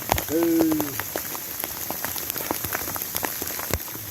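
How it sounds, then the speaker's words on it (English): Large hailstones, roughly golf-ball size, fall in a heavy hailstorm, a dense patter of hard impacts with sharper individual cracks nearby, steady throughout, with a brief voice near the start. "We thought that was a big hailstorm yesterday. This is far bigger."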